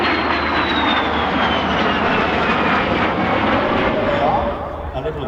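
A small display aircraft at the Scottish Airshow sweeps past with a loud, sustained engine roar and a falling pitch as it passes, with a commentator's voice heard over the noise.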